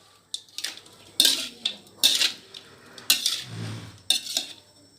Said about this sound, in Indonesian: Oke, kita aduk lagi, kita aduk sampai rata.